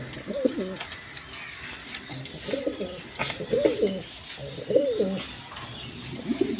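A big-sized pair of German Beauty pigeons, male and female, cooing close by in repeated soft rolling phrases about once a second, with faint background noise.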